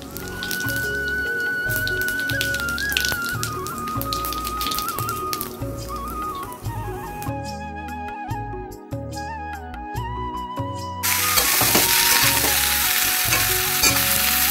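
Dried red chillies and white cumin seeds frying in hot oil, a loud, steady crackling sizzle close by that flares even louder near the end, with no talking.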